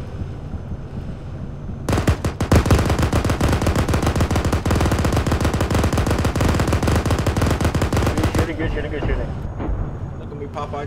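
Sustained heavy automatic gunfire in the military game Arma 3, loud and dense for several seconds after a quieter start, then cutting off abruptly, with radio chatter and voices beneath.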